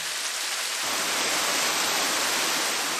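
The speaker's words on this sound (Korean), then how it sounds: "암벽 사이에서 쏟아지는 폭포입니다" A waterfall pouring between rock walls on Iturup Island in the Kuril Islands gives a steady, full roar of falling water without pause, loud and close, filling the whole stretch.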